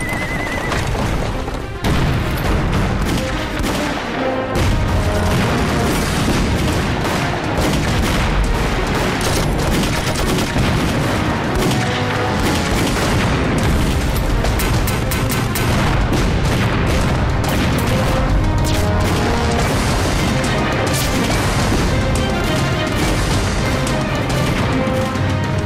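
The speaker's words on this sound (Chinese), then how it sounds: "把小鬼的弹药库全都给炸了" Explosions from a Japanese ammunition depot hit by artillery fire in a Chinese anti-Japanese war film, buried in a dense, loud battle mix with volleys of gunfire and booms. Horses whinny throughout, continuously, at a constant, high level.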